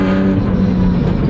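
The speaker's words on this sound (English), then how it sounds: "Oh, I love this throttle response." A BMW E46 M3 engine responds to the throttle with a loud, close, steady mechanical roar, heard alone in a short burst.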